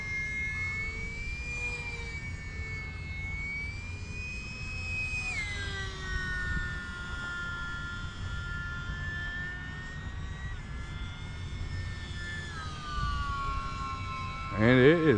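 A small UMX Pitts radio-controlled biplane, recently rebuilt after a crash, flies with a continuous high-pitched electric motor whine that rises and falls in pitch as it passes, with a person talking over it.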